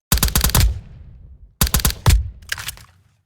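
Rapid burst fire from a gun in the video game Roblox, two clusters of sharp automatic shots about a second apart, loud and close with short decaying tails and no talk.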